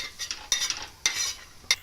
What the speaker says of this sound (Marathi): आता मी खोबरं टाकते खोबरं पण थोडं भाजून घेते